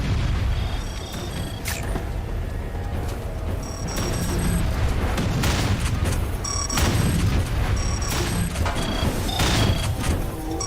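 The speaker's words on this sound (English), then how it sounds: "I took a rocket in the face" Video game combat with repeated booming explosions and gunfire crackle, loud and close, coming in several bursts over a continuous rumbling background.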